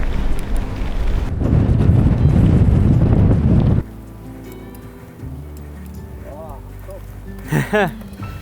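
Loud wind rumble from a strong westerly headwind while cycling batters the microphone for a few seconds, then cuts to a quieter background where a voice briefly speaks.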